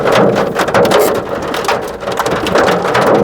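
Large hailstones pound a car roof and body during a sudden hailstorm near Chopta, a loud, dense, continuous clatter of rapid hard impacts with no pauses.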